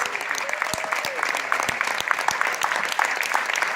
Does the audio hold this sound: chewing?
no